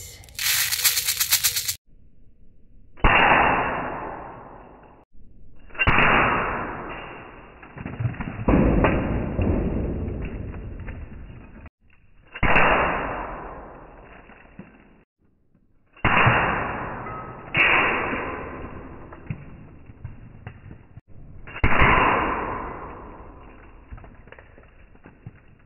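An air gun fires steel BBs in a series of about six loud, sharp reports spread over the stretch, each followed by a clattering, rattling decay as the shot strikes its target.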